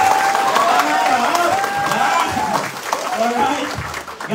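Audience applause at a motivational success-story talk, a dense wash of clapping from a crowd with some cheering, steady and fairly loud, then thinning toward the end while people talk over it.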